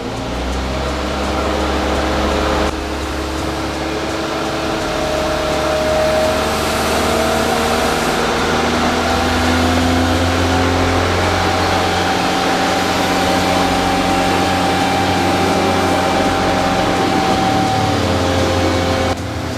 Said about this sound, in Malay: So kita akan ref enjin kereta pada kadar RPM 2500.